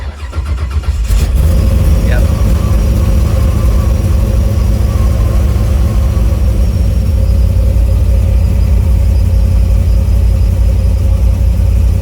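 Chevrolet S10 truck running on E85 fuel cranks and fires up within the first second, then settles into a steady, loud, close-miked idle with a deep rumble that continues without pause; someone talks briefly over it.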